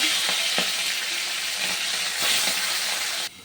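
Baim fish frying in hot oil in a wok gives a constant bright sizzle broken by a few soft stirring knocks, then cuts off abruptly near the end.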